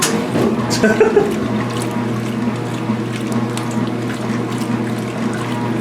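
A washing machine sloshes water in slow, lazy surges alongside a steady mechanical hum, with brief clicks early on and no talk over it.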